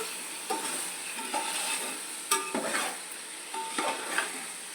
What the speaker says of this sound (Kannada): ಇದೆಲ್ಲವನ್ನು ಸೇರಿಸ್ತೀನಿ ಇದನ್ನು ಸಹ ಫ್ರೈ ಮಾಡ್ಕೋಬೇಕು